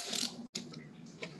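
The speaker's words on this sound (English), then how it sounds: "Once you get it hand tight, we're going to hit it with the torque wrench." A torque wrench ratchets briefly while tightening bolts on a pump membrane housing, two quick clicking bursts split by a short pause, close and quiet.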